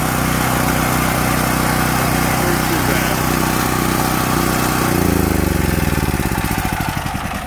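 A WEN 11000W dual fuel generator engine runs steadily at a loud, even drone, then is cut off and sputters down, its pulses slowing and fading over the final seconds.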